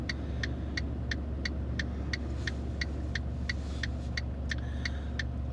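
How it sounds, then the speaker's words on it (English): A turn signal clicks in a steady, even rhythm over the low rumble of an idling car. "Loud indicators, I know."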